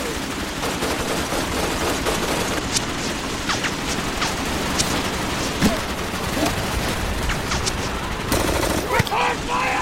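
Dense, loud gunfire from an action film, with rapid bursts and single shots layered over chaotic battle noise. Shouted voices break through in places.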